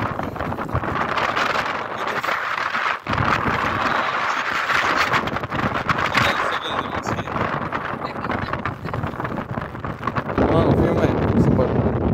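Strong wind buffets the microphone outside the Carol I Mosque in Constanta, a loud, continuous roar that swells and dips, with people talking through it.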